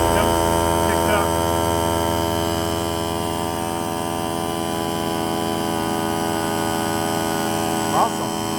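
An as-is clearance inverter generator drones steadily under load from a small compressor, a close, constant tonal hum with a faint brief clatter near the end.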